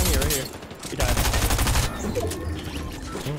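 Rapid bursts of gunfire in the video game Fortnite, dense crackling shots in repeated volleys, loud and close, with faint talk in the background.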